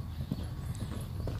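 Horse hooves clip-clop softly on an arena surface during a riding lesson over cavalletti, a faint, uneven rhythm of several footfalls with no talking.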